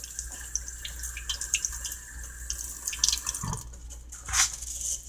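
Running tap water splashes over aquarium filter media from a large Aquaclear saltwater filter being rinsed in a sink, with irregular gurgles and drips close by.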